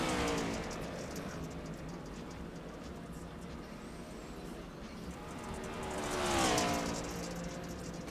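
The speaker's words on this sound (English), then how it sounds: "That was a clean, beautiful drift." A car drifting in a racing video game gives a droning engine that rises and falls, swelling louder near the end, with a person talking over it.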